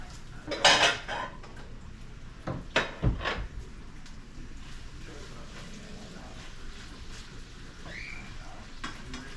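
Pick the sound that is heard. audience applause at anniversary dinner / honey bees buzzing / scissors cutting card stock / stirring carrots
stirring carrots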